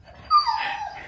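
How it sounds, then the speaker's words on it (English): A pet dog lets out a single brief, close whining bark that trails off quickly in a quiet room. "And that's my dog."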